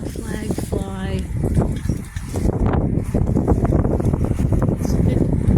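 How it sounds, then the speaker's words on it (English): Strong wind buffets the microphone outdoors in low, rumbling gusts that stay loud and continuous, with a voice briefly heard speaking near the start. "It's a bit windy day."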